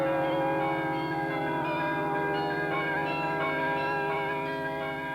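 A 48-bell carillon, the Happy Bells made by the Eijsenbouts bell foundry, rings out loud and sustained, with many tuned bells overlapping in a rich, continuous wash of melodic tones.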